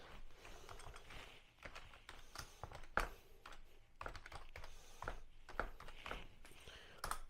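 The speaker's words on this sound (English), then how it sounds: "I'll type it in on the computer" Someone types on a computer keyboard in a room, with irregular bursts of clicky keystrokes and pauses between them, one sharper clack standing out, close but fairly quiet.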